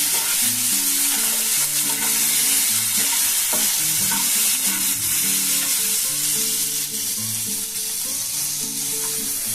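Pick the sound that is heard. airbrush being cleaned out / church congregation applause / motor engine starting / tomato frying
tomato frying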